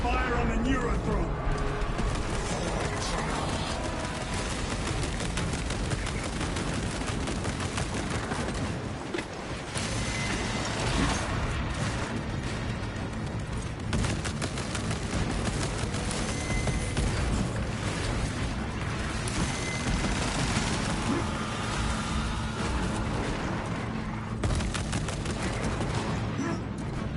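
Continuous heavy gunfire and explosions in a Warhammer 40,000 video game, a dense unbroken barrage of rapid shots and booms, with voices speaking over the din.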